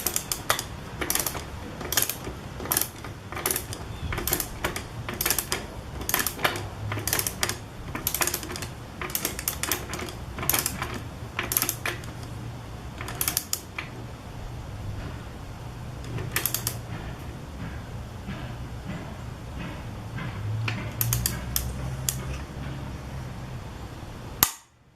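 A torque wrench tightens the rear axle nut on a Honda CB750 during a rear tire install, giving rapid bursts of sharp, close ratchet clicks that run steadily throughout with no talking.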